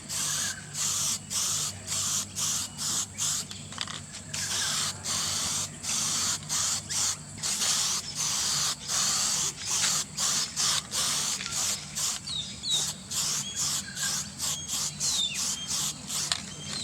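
Primer sprays onto a Toyota Hilux front bumper in rapid repeated hissing bursts, each short pass close and loud, keeping an even rhythm throughout with a faint low hum underneath and no talking.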